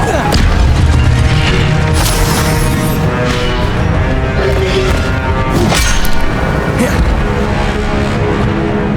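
Fiery spell blasts and crashing booms from combat in the video game Hogwarts Legacy, loud and dense throughout with repeated sharp impacts layered over a sustained roar.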